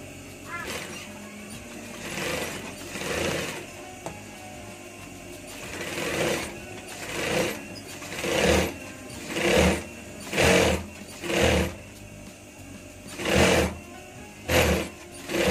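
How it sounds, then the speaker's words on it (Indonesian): A sewing machine stitching a jacket hood with lining, running in short repeated bursts of whirring stitches separated by brief pauses, fairly close and steady in loudness. "Kita jahit dulu seperti ini."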